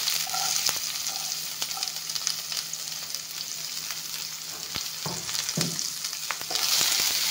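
Onion and garlic fry together with five-spice in a hot pan, giving a steady close sizzle with faint crackles and a few soft stirring scrapes, no voices.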